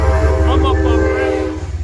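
A Metro-North commuter train passing near Peekskill, New York, a loud close rumble with a sustained tonal horn-like whine and steady low drone over a couple of seconds.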